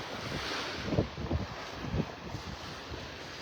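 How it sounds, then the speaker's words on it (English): Cold wind gusts across a Gulf beach at Delnor-Wiggins in North Naples, Florida, with steady surf washing in; continuous broadband rush with irregular low buffeting thumps of wind on the microphone, no voices. "Make this cold wind go away."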